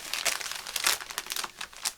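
Sheet of Heat and Bond fusible web crinkling and rustling as it is handled at close range, a run of crisp bursts that rise and fall, louder near the middle.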